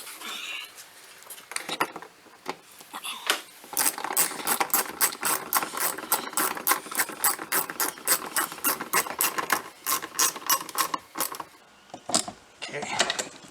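Rapid ratchet wrench clicking while removing an interior panel from a 2006 Porsche Cayenne, dense bursts of ratcheting strokes running steadily through most of the stretch, close and fairly loud, with pauses near the start and end.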